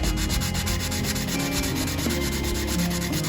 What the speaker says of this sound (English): I just glue down a piece of sandpaper at the tip, and it makes a nice little sanding stick